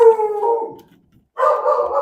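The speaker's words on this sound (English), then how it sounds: "Hey, what are you barking about?" Dogs howl in a long, loud, close wail that fades out, then after a brief pause break into more howling and barking.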